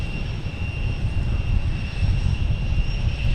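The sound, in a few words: airplane at Boston Logan Airport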